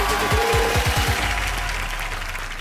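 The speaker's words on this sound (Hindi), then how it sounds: "ताली बजा दे।" A studio audience at a Comedy Circus 2018 comedy show breaks into loud, dense applause that fills the space and fades slightly toward the end, mixed with brief low swooping sound effects.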